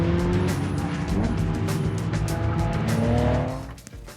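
A Renault Scénic race car drives hard on a track, its engine roaring loud and close with rising and falling pitch and some tire squeal, before the sound drops off at the end.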